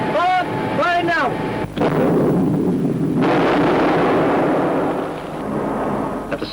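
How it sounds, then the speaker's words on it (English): Artillery fire in a tank troop's attack: a voice at the start, then a loud, booming blast about a second and a half long, followed by a lingering low rumble. "the FOO calls down artillery fire on the objective"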